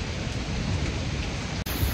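Steady, heavy rain hissing and pattering close by on a front porch, a dense wash of noise with no voices.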